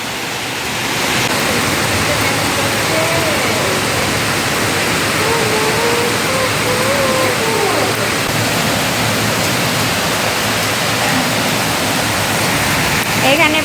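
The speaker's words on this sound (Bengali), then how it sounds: "কত জোর বৃষ্টি হচ্ছে" A torrential downpour falls so hard it hangs like mist, producing an unbroken, loud broadband hiss and roar that stays steady for the entire stretch.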